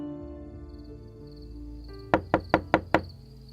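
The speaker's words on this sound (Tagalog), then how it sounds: "nagising na lang kami nang marinig ang katok ni Mang Delfin." Five quick knocks sound on a door in an even, rapid series, sharp and close against a low background hum.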